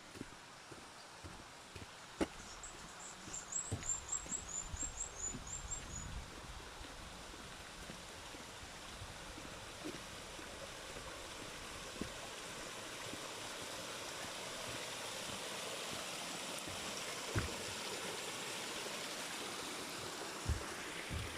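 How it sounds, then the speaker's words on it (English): A New Zealand bush stream rushes steadily along a forest trail, a constant close wash of flowing water with a short run of high bird chirps early on. "just listen to this beautiful stream and birds"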